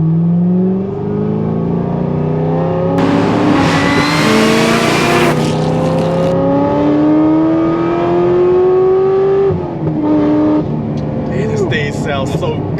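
A 2009 Corvette ZR1 engine making over 750 wheel horsepower revs up and down repeatedly, loud and close, its pitch rising and falling in long sweeps.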